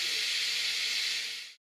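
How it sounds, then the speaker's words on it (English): Steam hisses steadily from a Laurastar steam generator as the remaining pressure is released, a loud continuous rush that fades over its final moments and then cuts off. "Allow the remaining steam to escape."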